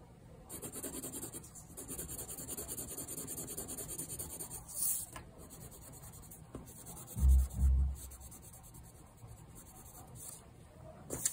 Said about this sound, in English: So I'm gonna take my purple pencil here and I am gonna fill it up in the violet.